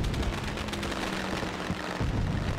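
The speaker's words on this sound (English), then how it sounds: "As the fireworks go on back here." Fireworks crackle and pop in a dense, continuous barrage over a dirt race track at Eldora during a NASCAR exhibition event, loud and distant with a rumbling wash of noise.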